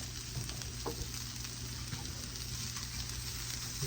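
Diced onions sauté in a pan for fried rice, giving off a steady, even sizzle that stays moderately close and unbroken throughout, with no talking.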